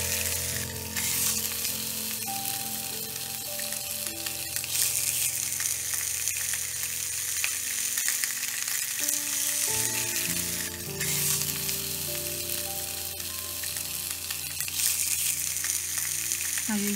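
Breakfast sausages fry in a pan with a continuous close sizzle and crackle, steady throughout, with faint background music tones underneath.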